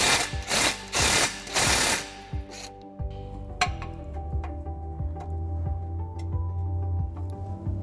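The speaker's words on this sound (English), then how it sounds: "In order to do that, we're going to have to loosen this bolt." A ratchet loosening a bolt on the baseplate of a 2018 Jeep Wrangler gives a run of crisp, evenly spaced clicks up close, after some louder clattering bursts at the start.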